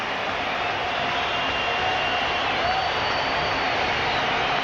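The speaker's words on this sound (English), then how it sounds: "And now the Toronto fans are applauding Dave Stewart." A Toronto baseball crowd in a 1990 Athletics versus Blue Jays game applauds Dave Stewart, a broad, steady wash of clapping and cheering from a large stadium audience, sustained and even throughout.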